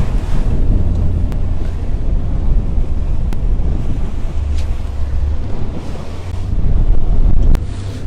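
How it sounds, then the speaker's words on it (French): Loud, gusty wind buffets the microphone continuously at sea during the Mini Transat 2021 sailing race start, with rushing sea and water noise underneath and occasional sharp knocks. "je sais que vous m'entendez peu parce qu'il y a beaucoup de vent"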